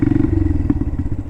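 Honda Monkey motorcycle ridden along, its small engine giving a steady low putter with a brief thump partway, continuous and close, no talk.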